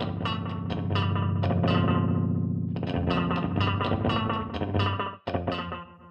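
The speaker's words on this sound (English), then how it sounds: "with these sliders, you can control the amount of echo or swell." Bucket-brigade-style echo from the AudioThing Mantis plugin on a plucked, distorted instrument phrase, with repeating delayed notes swelling and smearing into a reverberant, chorus-like wash before the sound cuts briefly and resumes.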